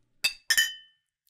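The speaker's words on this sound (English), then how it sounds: "Morgan, what should we cheers to?" Two glasses clink together twice in a toast over blackberry brandy, the first bright chime short and the second ringing out longer, close and clear with no talk.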